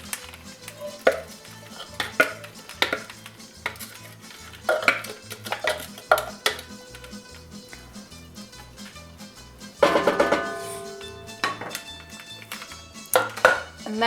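Chopped vegetable mixture tipped into olive oil in a pot over low heat, heard as scattered clatters and scrapes of a spoon against the pot, with a louder burst of stirring and rattling midway.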